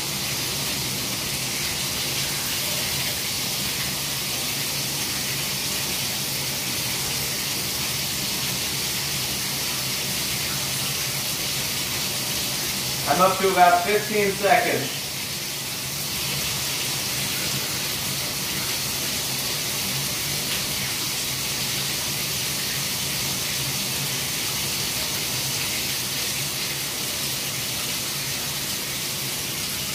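Water runs steadily from a faucet as a Flo by Moen leak-detection system monitors the flow, a constant wash throughout with a brief burst of voice in the middle.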